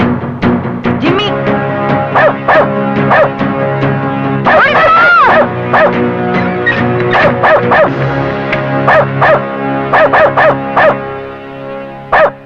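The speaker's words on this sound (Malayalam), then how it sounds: "ഞങ്ങൾ പട്ടം എടുക്കാൻ വന്നപ്പോ അതെന്നാ പട്ടി അയച്ചു വിട്ടു" Dog barking repeatedly at close range, loud sharp yips and barks coming in irregular bursts with a whining, howling stretch in the middle.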